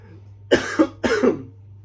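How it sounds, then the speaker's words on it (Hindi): Two quick, sharp coughs, each a double burst, close up against a low steady hum. "खांसी हो रही है मुझे।"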